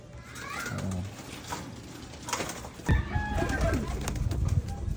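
Free-flying pigeons in a Filipino loft: soft coos and flutters at a moderate distance, with a burst of wing flapping near the middle, under faint background voices.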